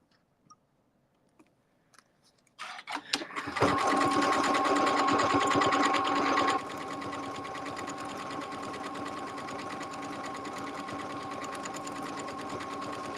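A sewing machine starts up after a few faint clicks and stitches steadily along a line, a loud close whirring hum that drops slightly in level partway through and keeps running without talk.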